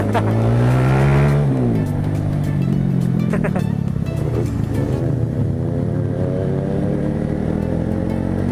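Two Kawasaki ZX6R sport bikes surround the rider front and back, their engines droning loud and close with a rising then falling whine, under steady road and wind noise, while a voice talks over it.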